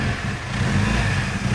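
Engine of a Mitsubishi Evo wagon project car on its first drive, a steady close mid-pitched rumble with no talk over it.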